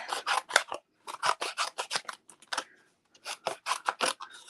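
Scissors snipping through paper for a stamped card, rapid crisp cuts in quick bursts with short pauses, close and clear with no talk.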